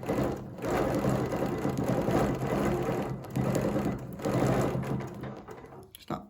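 An embroidery machine stitches a snowflake petal with a steady, close, rapid mechanical whir and hum, broken by two brief pauses before it stops.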